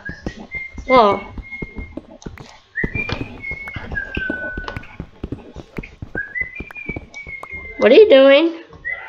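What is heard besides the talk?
person whistling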